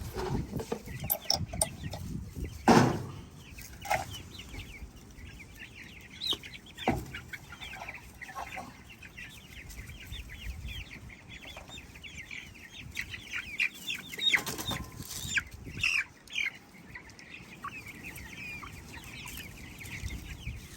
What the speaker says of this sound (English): So we ordered 35 meat birds.